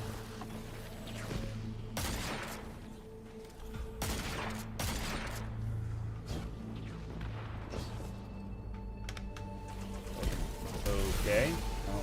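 Gunfire against Vex constructs in the shooter Destiny 2, repeated bursts of weapon shots and impacts spread through the scene, with a voice talking over the action.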